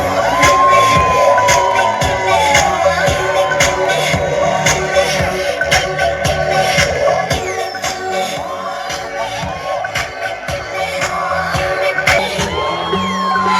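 A crowd at a children's fashion show cheers and whoops loudly and steadily, with claps and shouts over pop music playing throughout.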